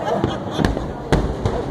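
Fireworks bursting over Rio de Janeiro for the city's 450th anniversary, a few sharp distant bangs at irregular intervals over a steady crowd murmur.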